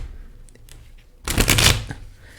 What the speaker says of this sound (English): we're going to throw one more shuffle down